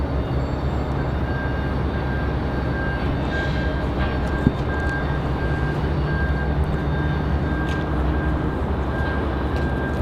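Southwest Airlines Boeing 737 Max 8 jet engine spooling up at Raleigh-Durham International, a steady broadband roar with a faint sustained whine running through it from start to finish, no voices.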